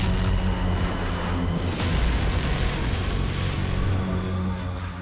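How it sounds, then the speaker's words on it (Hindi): A rocket launcher blast tears apart a car during an attack, alongside AK-47 gunfire, producing a loud, sustained, close rumbling roar with a sharp burst and crackle partway through. "एक आतंकी रॉकेट लॉन्चर से कार के चीथड़े उड़ा देता है"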